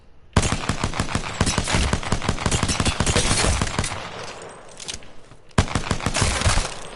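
Rapid automatic gunfire from Apex Legends, loud and close, with dense bursts of shots, a brief lull near the end, then another sharp burst.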